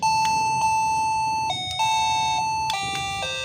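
A wired laundry doorbell chimes loudly and close, sounding an electronic ding-dong melody that shifts to a new tune partway through, with no voices over it.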